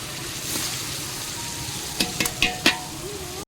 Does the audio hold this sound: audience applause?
no